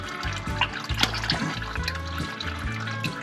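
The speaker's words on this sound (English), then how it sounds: "So you can drain the oil that's inside this." Motor oil pours from an opened drain plug during an oil change, a steady liquid gush with bubbling, gurgling pulses as it splashes into a catch pan.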